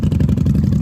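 A Honda Magna 750 VF750C motorcycle idling with an aftermarket exhaust, a loud, close, steady low rumble with fast, even engine pulses.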